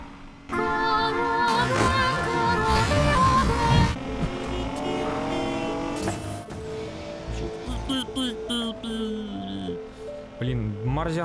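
Race car engines whine and tires squeal in a racing video game, with rising and falling engine tones, skids and bursts of noise, loud and continuous under a voice talking.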